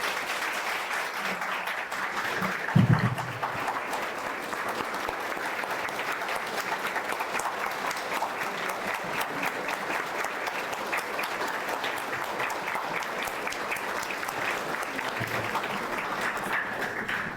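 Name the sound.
audience applause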